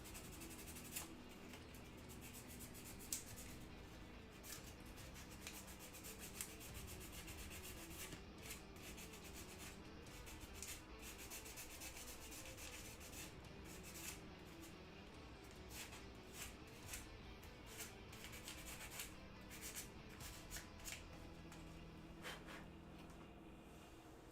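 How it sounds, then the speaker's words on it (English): Steady scratchy rubbing of hand sanding, continuous and close, with a low hum underneath and no talking. "Sanding that hand now."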